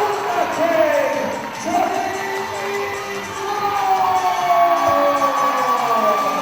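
Crowd at a 2006 FWA versus ASW wrestling show in Morecambe roars and cheers steadily through the whole stretch, a dense, loud wall of voices with some shouting rising above it.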